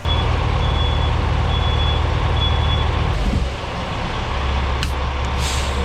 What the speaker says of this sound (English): We had a bunch of crazy trucks just coming in here now.